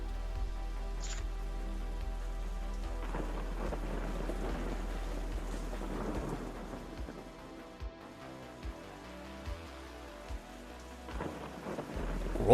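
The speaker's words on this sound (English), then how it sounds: "Freezing rainstorm." A freezing rainstorm effect in the Warsaken card game, where steady rain patters on a surface under low rumbling thunder, quiet and continuous, with a few sharper drops and knocks near the end.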